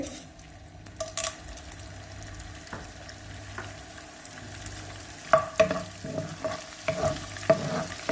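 Edible gum (gond) is roasted in a pan with a soft steady sizzle, while a spoon stirs and scrapes against the metal with irregular clinks, close and fairly quiet, with no talking.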